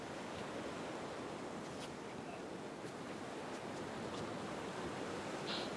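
Steady broadband wash of Atlantic Ocean surf rolling onto a secluded beach at Cherry Grove Point, North Myrtle Beach, continuous and soft at a distance with no voices.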